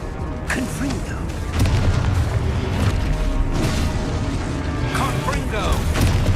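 Confringo fire spell explosions in Hogwarts Legacy: dense, continuous booming blasts and crackling impacts, loud and close, with a voice calling out over the chaotic battle noise.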